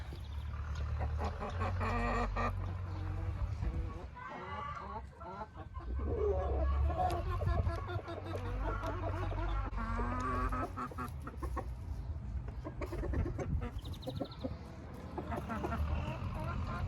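A hen clucks repeatedly in a coop just after laying an egg. The calls are close and uneven, with rustling and other background farm noise under them.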